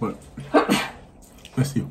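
One person sneezes sharply at close range, with speech from others before and after it.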